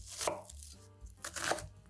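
A knife chops food on a cutting board for a lean-beef burger bowl, giving a few quick, close, crisp strikes in an uneven rhythm with no talking.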